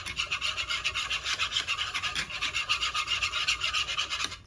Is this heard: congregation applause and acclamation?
no